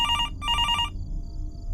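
A telephone rings in the horror video game Fears to Fathom: Norwood Hitchhike, set in a motel, giving two electronic bell bursts and then falling silent over a low ambient rumble.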